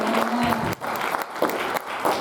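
A church congregation applauds during a Sunday service, a short burst of clapping mixed with a voice speaking.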